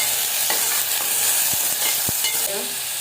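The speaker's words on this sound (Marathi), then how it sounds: "घालूया कट केल्ले अननस. ते बरें मिक्स करून घेयात." Chopped pineapple stirred in a pan for a Goan dish, a constant close sizzle with a few soft knocks and scrapes of the spoon against the pan.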